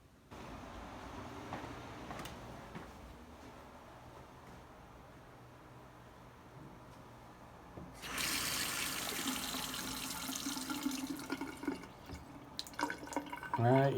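Water runs quietly through a house water line at first, then surges into a loud, steady rushing flow partway through as the line is turned on, with faint voices in the background.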